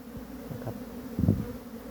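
Wild cavity-nesting honey bees fly around a bait box outdoors, a soft steady buzzing with a closer, louder bee passing briefly near the middle.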